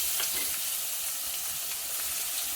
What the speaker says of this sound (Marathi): मोहरी चांगली तडतडली का जिरं टाकायचं, जिरं टाकलं का कढीपत्ता टाकला